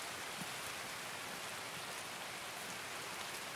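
Rain in the video game Escape From Tarkov, a dense, even downpour hiss that holds steady at moderate level with no voices.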